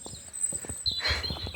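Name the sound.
wellington boots walking on road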